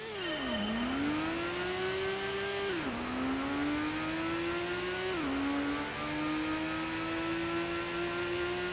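A Toyota Supra engine in the Gran Turismo racing game at Deep Forest Raceway, revving loud and steady, dropping briefly at each gear shift or corner and then climbing again, with no talking.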